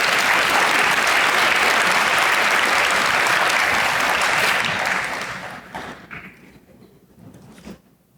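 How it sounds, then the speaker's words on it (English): Audience applause for students at a high school awards day, a dense, steady clapping from a large crowd that fades out over the final few seconds. "Let's give these students a round of applause."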